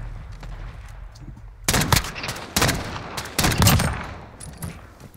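Bursts of loud gunfire from Call of Duty Modern Warfare/Warzone gameplay, dense rapid volleys that start suddenly and roll on for several seconds, close and harsh, with no talk.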